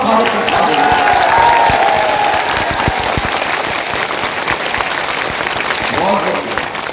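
Crowd at a political rally clapping and cheering, a dense roar of applause that stays strong then gradually settles, with voices mixed in among the claps.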